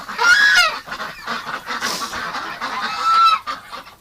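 Geese honk loudly at close range, a burst of nasal calls followed by quieter chattering and another strong honk, with no talking.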